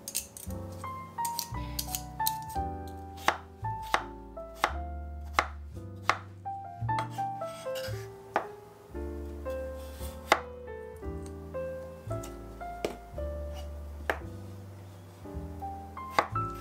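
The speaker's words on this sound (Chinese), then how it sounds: "将它批皮，然后切成薄片" A knife slices peeled potatoes into thin slices on a cutting board, about two dozen crisp, close chops in a quick, uneven rhythm, alone, with soft music underneath.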